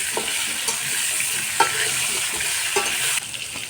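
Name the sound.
potatoes with salt frying and being stirred in a wok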